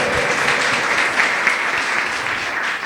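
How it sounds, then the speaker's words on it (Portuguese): A church congregation claps in worship in a steady, even wash of applause, fairly loud and unbroken for a few seconds. "louve a Ele com suas palmas"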